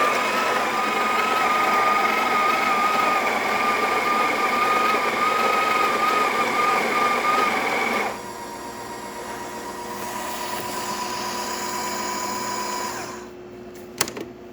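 A Breville Oracle espresso machine grinds coffee in a loud, steady high-pitched whine for about eight seconds, then drops to a lower motor hum that runs on before ending with a couple of clicks.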